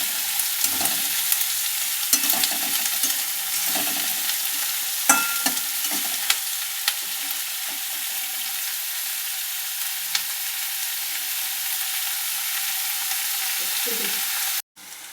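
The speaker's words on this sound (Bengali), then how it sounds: "এবার সব পেঁয়াজগুলো তেলের মধ্যে ছেড়ে দিয়ে পেঁয়াজগুলো একটু ভেজে নেব" Chopped onions fry in hot oil in a pan, a steady broadband sizzle lasting throughout with occasional soft stirring scrapes, close and without talk, cutting off abruptly at the end.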